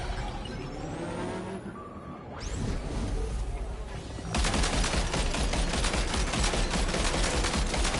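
Video game gunfire bursts in as a dense, continuous rattle of rapid shots that takes over the second half, after quieter engine-like rumble and game ambience.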